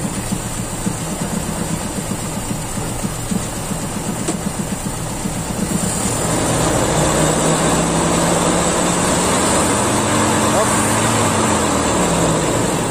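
A carbureted car engine, idling unevenly and misfiring, is given throttle, its steady idle swelling into a louder sustained rev midway through, close by.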